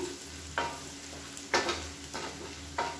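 Ground masala frying in a pan for masala kushka makes a faint, steady sizzle, broken by four bursts of spatula stirring spaced across a few seconds.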